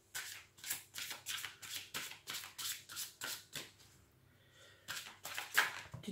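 Tarot cards being shuffled for a love reading, a run of about a dozen crisp riffling bursts in steady rhythm, close and fairly quiet, with a short pause before a few final shuffles.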